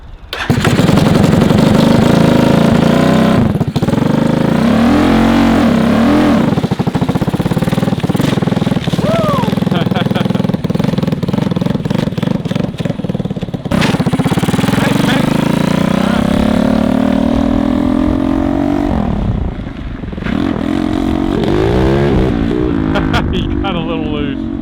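A 200cc shifter kart engine revs loud and close while driving, its pitch sweeping up and down through gear changes with brief dips, a constant raspy roar from start to finish, with a voice talking faintly over it.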